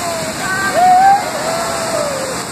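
The Pancada Grande waterfall in Ituberá, Bahia, gives a constant broadband roar of falling water, steady and enveloping, with faint voices and a brief whistle-like tone over it.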